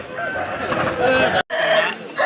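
Roosters at the Pileru poultry market crow and cluck loudly amid a busy crowd, with a red-feathered parrot-beaked cockerel among them; a brief pause breaks the noise before the crowing and market chatter resume.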